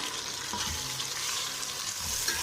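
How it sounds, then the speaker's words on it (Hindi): Chicken pieces fry in a hot pan for a Shinwari chicken chole dish, giving a steady close sizzle with faint stirring scrapes and no voices. "अब इसमें हमने चिकन डालना है। चिकन को अच्छी तरह फ्राई करेंगे।"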